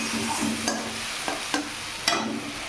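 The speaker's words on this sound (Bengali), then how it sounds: "মশলাটাকে ভালো করে কষিয়ে নেব দুটো একটা কাঁচা লঙ্কা দিয়ে দিলাম" Spice paste with green chillies frying in a pan for a Katla fish curry, a close steady sizzle broken by a few sharp scrapes of a spatula against the pan, with no talk.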